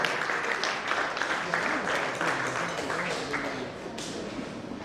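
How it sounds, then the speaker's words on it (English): An audience at a building technology company presentation gives a round of applause for the company president, a dense wash of clapping that gradually fades, with a voice speaking over part of it. "Please a round of applause for him."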